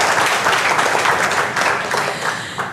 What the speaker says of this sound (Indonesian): Tepuk tangan jangan sendirian.